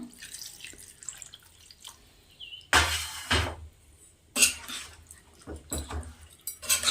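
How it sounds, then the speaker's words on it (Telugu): Lemon juice poured and squeezed into homemade chicken pickle, a few wet splashing bursts and dripping sounds with clinks in between, close and moderately loud. "ఇప్పుడు ఇందులో నిమ్మరసం వేసుకుందాం"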